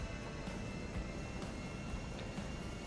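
A small plane's engine in the Transport Tycoon video game drones steadily and loudly while taxiing, a dense continuous rumble with no pauses.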